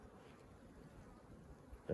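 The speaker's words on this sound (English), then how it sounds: "Bees." Bees buzzing inside a weak, starving late-season hive with wax moth damage, a low steady hum that swells slightly near the end, quiet and close.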